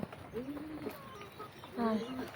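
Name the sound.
pigeons cooing at the coop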